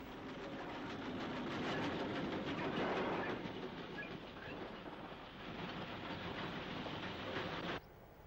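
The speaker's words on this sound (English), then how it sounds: "UG number 47 heads a heavy train bound for the seaside at Warren Point." An Irish UG class 47 steam locomotive hauls a heavy summer train bound for the seaside at Warren Point, a loud continuous rumble of rolling wheels and wagons, swelling midway and cutting off abruptly near the end.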